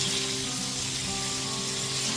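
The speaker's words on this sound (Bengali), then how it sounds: "এঁচোড়ের টুকরোগুলো যাতে খুব তাড়াতাড়ি ভাজা হয়ে যায় ওই জন্য আমি ঢাকা দিয়ে ভেজে নিচ্ছি" Young jackfruit pieces frying in oil in a covered pan, a steady close sizzle and crackle running evenly throughout with a faint low hum beneath and no talking.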